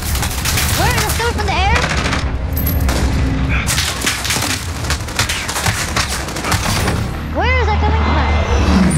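Rapid gunfire from a Call of Duty Plunder match, dense overlapping bursts and shots running nearly the whole way through, with voices talking over it.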